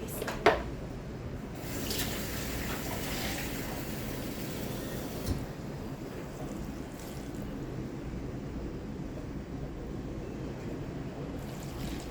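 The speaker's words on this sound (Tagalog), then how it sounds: "lagyan natin yan muna ng tubig" Water pours steadily into a pot, a soft continuous splashing rush at close range after a small clunk at the start.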